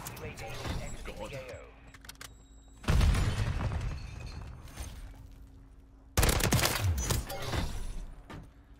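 Bursts of gunfire in the video game Modern Warfare 3 come in two loud volleys of rapid shots with rattling echoes, separated by quieter stretches of faint clicks and ambient game noise.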